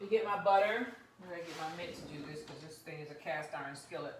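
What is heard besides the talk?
None of the usual background noises is heard.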